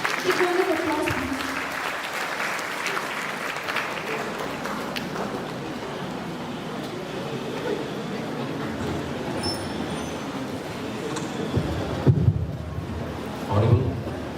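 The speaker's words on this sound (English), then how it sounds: "Big round of applause, please." Sustained applause fills a college hall at an HR campus event, a dense steady clatter of many hands lasting most of the stretch, with crowd murmur and brief voices breaking in near the end.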